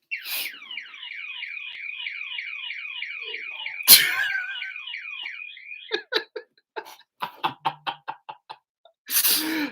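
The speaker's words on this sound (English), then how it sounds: "I can't believe now I set the alarm off." A household alarm goes off with a rapid warbling electronic pattern, joined by a sharp bang partway, then gives way to a series of short beeps and a final noisy burst.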